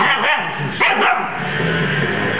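A puppy gives a few short, loud yips and barks close by, mixed in with a voice speaking over a television broadcast.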